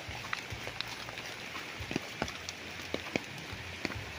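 Rain falling on a flat riverside farm lot in Nagcarlan, Laguna, a soft steady hiss of drops with scattered sharper taps and patters, fairly quiet and unbroken, no speech.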